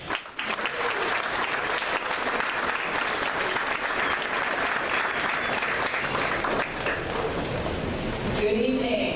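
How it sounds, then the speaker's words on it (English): A crowd at a community event hosted with ComEd and Project Onward applauds a speaker: sustained, even, rain-like clapping from many hands, moderately loud and filling the room, tapering slightly at the very end. "I think that she is worthy of our applause"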